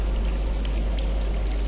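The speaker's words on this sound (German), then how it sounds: "Wasser." Steady, rushing water flows in a Darksiders game scene, an even wash of splashing and trickling with a deep low hum beneath it and no voices.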